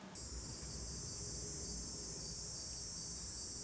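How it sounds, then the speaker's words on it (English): Cicadas drone loudly outdoors on a hot day, a constant high, buzzing insect chorus that holds steady throughout with no talk. "The cicadas are crazy loud"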